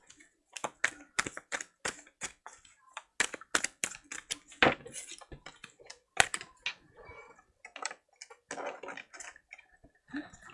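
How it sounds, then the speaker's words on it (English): Tarot cards are shuffled close up, giving irregular runs of crisp taps and riffling clicks with short pauses between bursts. "I'm going to shuffle some because just in case they want to use the same cards"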